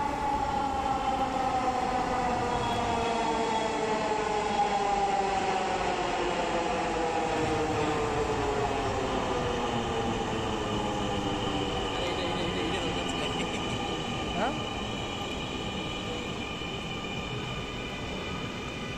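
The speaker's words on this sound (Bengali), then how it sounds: "চলে আসলো আমাদের কোচ, আগারগাঁ থেকে উত্তরা।" A Dhaka Metrorail train on the Agargaon to Uttara run, a loud sustained electric whine with gliding tones that shift in pitch over rumbling wheels, steady throughout as the train pulls in and runs.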